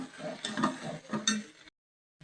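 A spoon scraping and tapping in a pan while soya gravy mixture is stirred, several soft irregular clinks close by, ending abruptly in silence.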